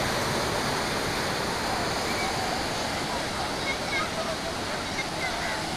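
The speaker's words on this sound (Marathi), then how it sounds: "तर अशी सिच्युएशन, अशी परिस्थिती सध्या आता बागा बीचवरती आहे." Waves and surf at Baga Beach in Goa roar in a steady, broad wash of breaking water that fills the whole stretch without pause.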